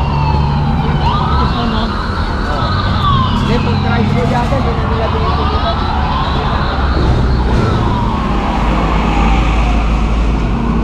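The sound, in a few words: ambulance and fire truck sirens during fire prevention parade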